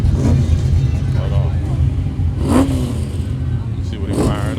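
A Pontiac's engine at an Atlanta morning car meet rumbles loud and close, with swells of revving, while people talk over it.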